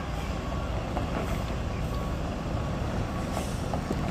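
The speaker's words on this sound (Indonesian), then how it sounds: "Terpantau kita di sini bus ALS yang akan menuju Kota Medan" A long-distance ALS intercity bus travels the Batu Jomba road toward Medan, its engine a steady, loud, continuous rumble throughout with broadband road noise and no pauses.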